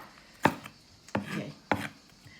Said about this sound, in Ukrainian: От я її нарізаю, як мені нарізається.